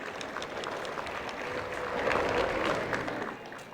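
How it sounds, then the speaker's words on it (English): An audience at a prime minister's international business awards ceremony in Fiji claps steadily for about four seconds, a dense, even wash of applause that swells slightly midway before easing off. "Let's give them a big round of applause"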